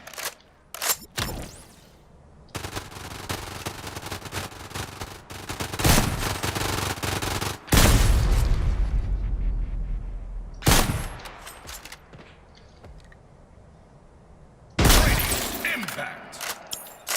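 Sniper gunfire from a video game boss fight comes in loud, sharp bursts separated by quieter stretches of ambient game sound and mechanical clicks.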